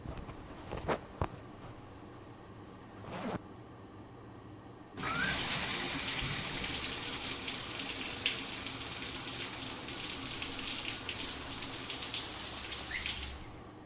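A shower turns on with a sudden gush and runs as a steady, loud spray of water for several seconds before cutting off, preceded by a few faint knocks and clicks.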